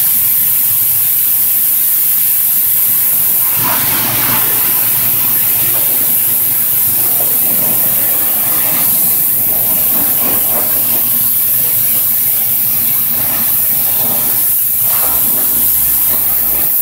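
A high-pressure spray wand at a self-serve car wash hisses loud and steady for the whole stretch, close up, with some surges in the rushing water.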